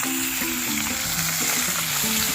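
Oil sizzles and crackles steadily as river fish fry in a pan, close and constant, with faint tonal clinks and hums underneath.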